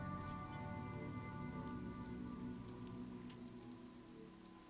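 Steady rain falls in Disco Elysium, a soft continuous patter on surfaces, fairly faint and even, layered under a low sustained musical drone with no talk.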